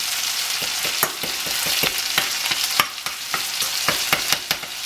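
A perch fish fillet fries in butter in a pan with a bright, steady sizzle, punctuated by repeated sharp crackles and spatters, close up and without talk.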